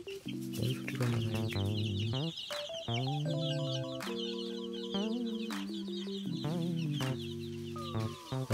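A crowd of about 22 well-grown young chicks peeps and cheeps constantly in high, busy chirps, layered over steady background music with held chords.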